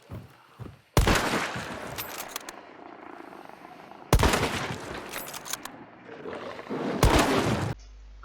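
Three long bursts of rapid automatic fire from an Obrez drum-magazine pistol in Hunt: Showdown, each lasting about three seconds and separated by short pauses, loud and close with no talking.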